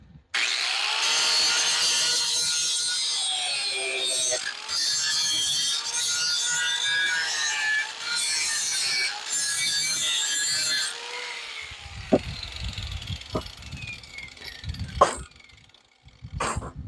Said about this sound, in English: I'm having to grind the nails off of the back